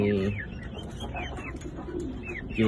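Soft, repeated racing pigeon cooing with a few brief chirps over a steady low background rumble, fairly close and moderately loud.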